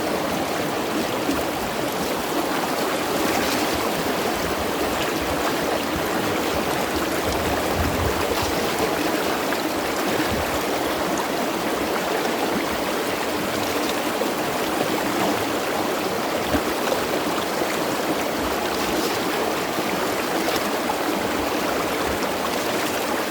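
Water runs steadily through a gold sluice box fed from buckets of dug material, a continuous rushing, trickling wash that stays even and fairly close throughout with no talking.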